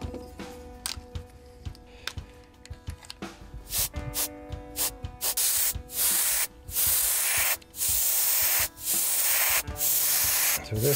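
A Copic marker airbrush system sprays fluorescent yellow paint onto a fishing lure in repeated short, close hissing bursts separated by brief pauses.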